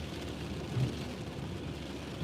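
Heavy rain pours down in a sudden straight downpour during severe weather in Nassau County, Long Island, a steady dense hiss and rumble filling the air without pause, close and fairly loud.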